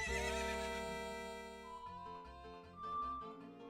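A horse whinnies in The Legend of Zelda: Ocarina of Time, a loud, tonal neigh over steady in-game music that fades and swells across a few seconds.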